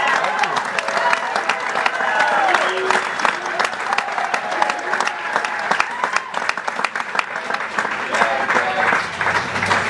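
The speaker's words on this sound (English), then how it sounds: "So let's have a round of applause for Kevin Johnson" A crowd in Sacramento gives sustained applause and some cheering for Kevin Johnson, a dense, continuous wash of clapping throughout. Scattered voices and shouts mix in beneath it.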